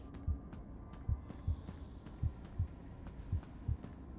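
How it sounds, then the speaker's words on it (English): A gentle game heartbeat from FNAF: Into the Pit thumps in steady paired beats, low and soft, repeating about every half second with no talk over it. "it has a gentle heartbeat right now, that makes me kind of nervous"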